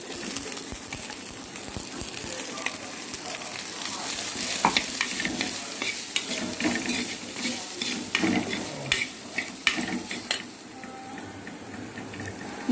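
Grated coconut fries in a pan for Chettinad pepper crab gravy, a steady sizzle under repeated scraping and clicking stirring strokes that grow busier midway, close by and without talk.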